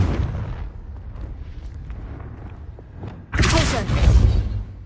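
A Confringo blasting spell goes off in a wizarding video game, a sudden loud, broad burst after a stretch of quieter rumbling background, its roar sustained and swelling for over a second.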